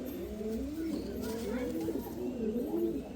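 A female pigeon coos in soft, low, rolling phrases close by, repeating steadily as people talk in the background.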